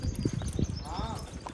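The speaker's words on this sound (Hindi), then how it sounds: "घोड़ी चला बाहर ले" A mare's hooves clip-clop at a walk while a young child rides her, a quick run of near hoof strikes with a voice talking over them.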